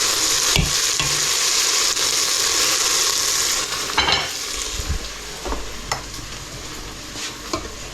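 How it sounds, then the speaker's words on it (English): Onions fry and hiss loudly in a pan while being stirred, with a bright continuous sizzle and occasional utensil scrapes and knocks, close up and with no voices. "Let's just stir the onions."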